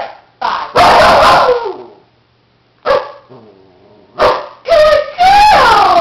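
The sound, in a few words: dog Butter barking on command to count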